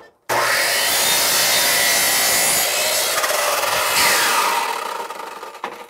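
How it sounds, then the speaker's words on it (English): A coping saw cuts by hand through wooden crown molding, making a steady, close rasping stroke sound that runs continuously for several seconds, then trails off, with no talking. "The back cutting we're going to do by hand with a coping saw."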